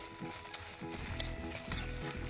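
Fenugreek seeds fry in hot oil in a home kitchen, giving a steady close sizzle with faint crackles and a few soft stirring scrapes, and no one speaks.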